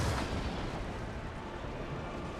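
Distant World War I strategy game battle with rifle grenadiers and mortars firing, a faint continuous rumble of blasts and a louder boom at the start.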